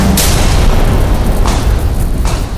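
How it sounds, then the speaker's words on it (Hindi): Diwali firecrackers go off in a few loud, sharp bursts over a steady noisy roar, with one early bang and two more spaced across the stretch. "मुझे पटाखों की आवाज अच्छी नहीं लगती ना"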